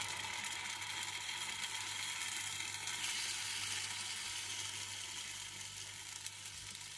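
Dosa batter sizzles steadily in a hot pan as it is poured, a bright continuous hiss heard up close, with a low hum running underneath throughout.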